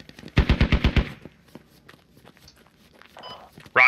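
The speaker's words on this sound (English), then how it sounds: "That's AK fire, be careful." A rapid burst of roughly seven AK rifle shots rings out in the military shooter Squad, loud and close, followed by quieter scattered footsteps and clatter, then a short sharp noise at the end.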